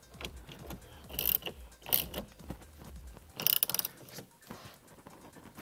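Steering wheel puller being turned on a Lexus IS300, a series of faint, close mechanical clicks and ratcheting creaks in uneven bursts, with a few louder clacks midway.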